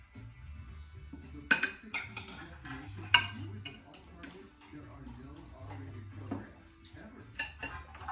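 A knife and fork clink against a plate while a cast iron ribeye steak is cut into small pieces, with light scattered taps and scrapes under quiet talk.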